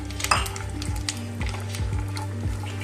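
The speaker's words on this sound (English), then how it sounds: "Now our mustard is spluttering." Mustard seeds spluttering in hot oil with cashew nuts and raisins frying alongside, a steady close sizzle broken by a few sharp pops and light clinks of a pan.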